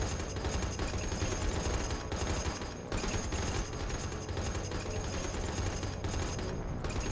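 Rear gunners on a diving aircraft in War on the Sea keep up continuous machine-gun fire, a dense steady rattle under loud engine roar that runs nearly unbroken, with one brief dip in the middle.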